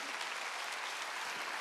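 A church congregation claps together in a loud, continuous wash of hands, steady and dense throughout with no voices on top.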